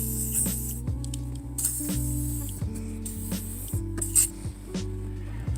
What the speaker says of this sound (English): we're gonna spray these daggone hinges.